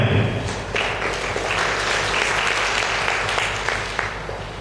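Sustained applause from an audience at an excellence award ceremony in Sokone, steady dense clapping that fills the whole stretch without any voices.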